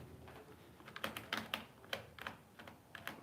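A Dell Inspiron 15 3521 laptop keyboard being pressed: irregular, close, quiet key clicks in a loose cluster, some tapped quickly together, with no talking.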